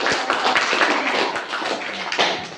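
A classroom of high school students claps in applause during a mathematics lesson, a dense, steady patter of many hands close by that carries evenly through the clip.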